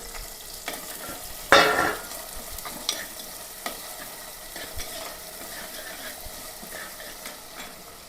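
Crushed shallots, green chilli, ginger and garlic dropped into hot oil in a clay pot, a sharp loud burst of sizzle that settles into a steady frying hiss with scattered stirring clicks.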